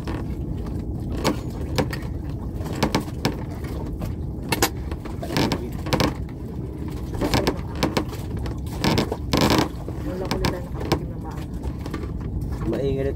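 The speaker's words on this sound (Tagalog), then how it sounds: "Maingay itong bangka na to." Noisy engine of a small fishing boat out on Manila Bay, a steady low rumbling drone with intermittent clanks and bumps, while people talk over it.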